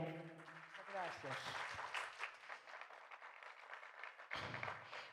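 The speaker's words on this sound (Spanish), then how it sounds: "Un aplauso para ella." An audience at a leadership talk gives applause, with a burst of clapping that runs under a speaker's voice before a brief dip and renewed claps near the end.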